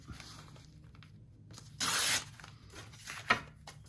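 Brown paper mailer being cut down to size for craft tags, a quiet room with faint rustling and one sharp, tearing rasp of paper, followed by a smaller crisp snip.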